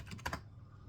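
A short burst of typing on a computer keyboard gives a few quick clicks, and then everything goes quiet.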